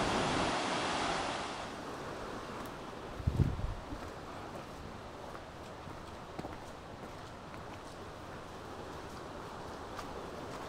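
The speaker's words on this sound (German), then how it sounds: "Die Kill ist zum reißenden Fluss geworden" Rushing Kill river in the Eifel, swollen into a torrent and heard from a bridge as a constant broad roar of water, with a brief dull thump and a few faint knocks over it.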